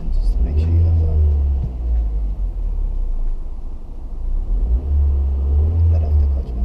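A stick-shift car engine revs up and rumbles steadily during a driving lesson, with swells of throttle near the start and end, while an instructor talks over it.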